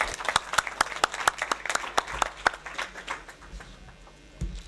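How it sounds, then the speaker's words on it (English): Audience applause for a panel at the close of a cybercrime strategies session at an internet governance forum, a moderate wash of clapping with a few sharp near claps that tapers off toward the end. "an applause for the panel"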